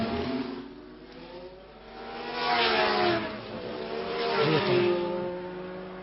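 Formula 1 race cars from 1966 roar past at the French Grand Prix near the Tillois corner, engines swelling in two distinct passes with a high buzzing tone, fading between them, no talk over the sound.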